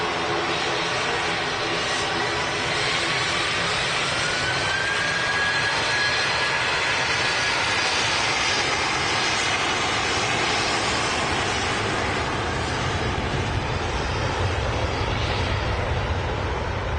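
An aircraft landing at Manchester Airport, its jet engines producing a loud, steady roar with a rising whine that holds throughout, with no talk over it.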